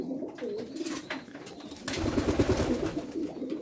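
Pigeons coo softly at night in low, throaty repeated calls, with rustling and fluttering nearby; no talking.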